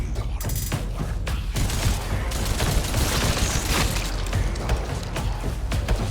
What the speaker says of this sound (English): they clearly look like they have multi-barrel miniguns, but they shoot one dinky little shot